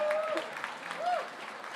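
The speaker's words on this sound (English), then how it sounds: "Yes, let's clap it up." Applause from an audience at an awards ceremony, a short burst of steady clapping with a voice briefly audible over it.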